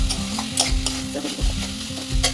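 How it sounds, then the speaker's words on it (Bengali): Boiled potatoes stirred in a hot pan with garam masala, a loud close sizzle broken by repeated rhythmic scraping and knocking of the spatula against the pan. "গরম মশলা দিয়ে নেড়ে চেড়ে দিই"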